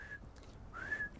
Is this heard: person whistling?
yes